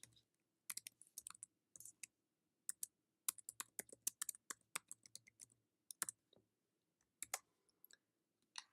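Short bursts of clicky computer keyboard typing while a file is renamed, close and crisp against near silence, in separate clusters of keystrokes with gaps between.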